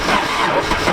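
A diesel Audi engine catches and runs, a loud, dense, close rumble filling the whole second without any talk.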